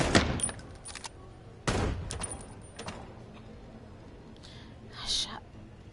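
Gunshots crack at a shooting range in the video game Chicken Police, two or three sharp reports spaced a second or so apart, followed by fainter clicks and a brief metallic burst near the end.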